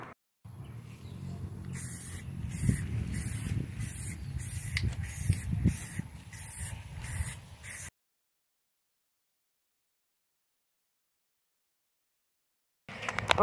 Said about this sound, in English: So I'm gonna go ahead and get started with our first coat of primer.